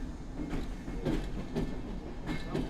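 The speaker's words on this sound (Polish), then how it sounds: "to jest pociąg międzynarodowy" An international train rolls past the platforms at Warszawa Zachodnia station in snow, a continuous rumble with repeated clickety-clack wheel beats over rail joints, fairly near and steady, with no one talking.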